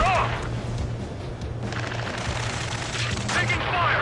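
Ace Combat 7 battle gunfire, sustained automatic firing and distant booms forming a continuous din, with radio-style voices speaking over it.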